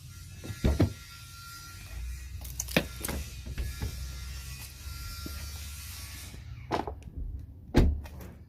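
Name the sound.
Toyota Highlander car door being opened after hinge adjustment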